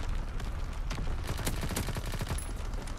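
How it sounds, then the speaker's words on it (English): Light machine gun fire in a WW2 video game, a steady rattling stream of rapid shots that runs through the whole stretch, loud and close with dense overlapping bursts. "But it's a light machine gun."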